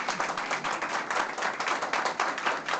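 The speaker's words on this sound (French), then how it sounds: "vous pouvez l'applaudir" Audience at a cultural association gathering clapping together, a dense, fairly loud and continuous patter of many hands throughout, no speech over it.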